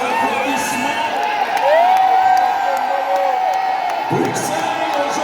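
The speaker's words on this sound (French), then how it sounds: "Sous vos applaudissements" Crowd of Congolese diaspora in Brussels cheering and whooping for President Félix Tshisekedi, sustained shouts and calls with scattered clapping, under an amplified announcer's voice.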